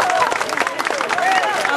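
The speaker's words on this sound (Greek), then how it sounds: "Ένα χειροκρότημα για να ανέβει" An audience at a school performance in Kopanaki applauds loudly and continuously, with crowd murmur and voices mixed into the clapping.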